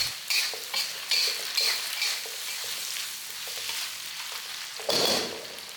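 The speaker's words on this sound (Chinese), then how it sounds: "然后继续翻炒。" Pork belly and salted fish being stir-fried in a wok with oyster sauce and dark soy, with a constant sizzle and repeated scraping strokes of the spatula, close and loud, with no talking.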